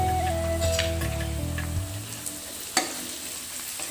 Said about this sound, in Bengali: তো এটা আমি একটু ভালো করে ভেজে নেবো।